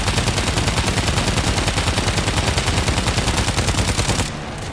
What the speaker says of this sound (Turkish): Patlayan mermi güzel.